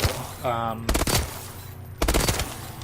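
An ARX-160 rifle in Call of Duty Advanced Warfare fires two quick three-round bursts on a firing range, loud and close, with a brief tonal game sound between them.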